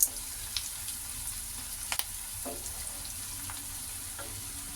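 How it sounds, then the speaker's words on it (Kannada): Onions fry and sizzle in a pan after cumin is added, with a steady hiss that runs the whole time. A few soft stirring scrapes and taps stand out from it. "ಸೊ ಅದಕ್ಕೋಸ್ಕರ ನಾನು ಸ್ವಲ್ಪ ಈರುಳ್ಳಿ ಎಲ್ಲ ಫ್ರೈ ಆದಮೇಲೆ ಜೀರಿಗೆ ಹಾಕ್ತಾ ಇದ್ದೀನಿ"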